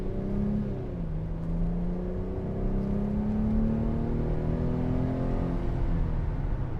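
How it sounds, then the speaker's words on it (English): A Mercedes-Benz SLK280 with a 3.0 engine revs, its smooth, muted growl rising and falling in pitch over a few seconds, heard from inside the car at moderate volume. "let's give it some gas here"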